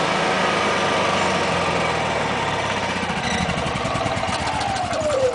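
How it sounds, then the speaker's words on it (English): A portable generator's engine running loud and close, then winding down with a falling pitch as it shuts off by long range remote control from about 400 feet away, no speech. "Now shut the generator off."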